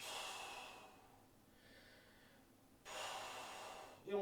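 Controlled breathing during a bodyweight strength exercise: a long breathy exhale, a quieter pause, then another strong airy breath and a sharp closing puff, close to the ear with no talk.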